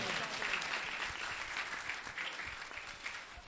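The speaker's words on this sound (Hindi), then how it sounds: "आए खुदा के लिए जोरदार तालियां बजा देंगे हम।" Church congregation clapping loudly together, a dense, steady wash of applause lasting throughout, with no pauses.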